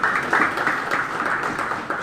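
Applause from a gathered audience at a church synod conference in Papua, a steady broadband patter of many hands clapping at moderate volume, with no talk over it.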